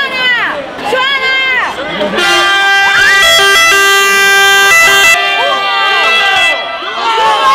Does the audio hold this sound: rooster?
no